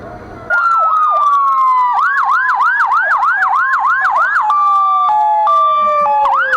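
Several police sirens at a Fourth of July parade in Malone wail loudly and close, overlapping wail and yelp patterns that shift into a steady two-tone pattern, with street bustle underneath.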